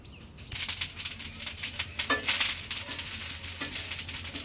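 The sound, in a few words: rice being fried and stirred in a pan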